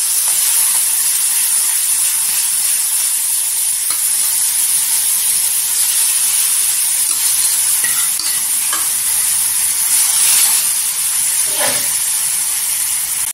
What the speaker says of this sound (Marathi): ते बघा भाजीला छान अशी उकळी आलेली आहे ना